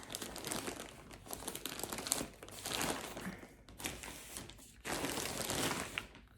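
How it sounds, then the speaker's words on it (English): Crinkling plastic packaging while unboxing a yarn haul of cotton lucky bags, close and fairly quiet, in repeated rustling bursts separated by short pauses, with no talking. "it will make for a lot less crinkling noise, which I think you guys will appreciate"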